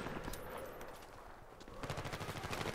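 An MK 11 rifle in Battlefield 3 fires a quick run of sharp shots, with a tighter, faster burst of cracks near the end over a steady background of battle noise.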